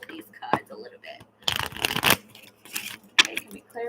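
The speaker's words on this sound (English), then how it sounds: "Shuffle these cards a little bit." Tarot cards are shuffled in several bursts of riffling and sliding, with quiet pauses between, the longest flurry in the middle, all close to the microphone.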